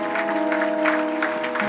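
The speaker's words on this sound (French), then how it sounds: "Je voudrais qu'on acclame très fort" Congregation applauding at a church ceremony, a steady dense wash of clapping hands with a sustained musical or organ-like tone underneath, continuous and fairly loud throughout.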